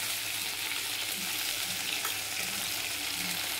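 Spice paste ground on a grinding stone fries in a pan for a Bengali fish curry, giving a steady, close hiss of sizzling oil with faint stirring and no talking.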